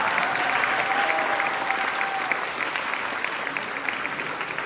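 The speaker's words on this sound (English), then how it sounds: "Let's have a round of applause for all our amazing speakers so far." Audience applause at a Women's Democratic Club political rally honoring the speakers, a steady wash of many hands clapping throughout, moderately loud and sustained without talk.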